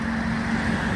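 Metropolitan city bus arriving on a road, a steady low engine rumble with a sustained tonal hum, loud and near, no talking.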